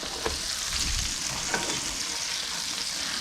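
Food frying in a pan for a chicken and pineapple dish gives a steady, close hiss of sizzling with a few soft stirring knocks, and no one talks over it.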